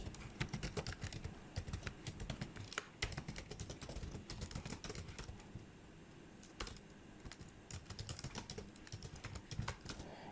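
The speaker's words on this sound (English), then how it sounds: "we have to hit tab in our keyboard, and then let's type out appendix G" Steady run of computer keyboard keystrokes during data entry, with dense rapid clicks and occasional heavier key presses such as tab, close and fairly loud with no talking.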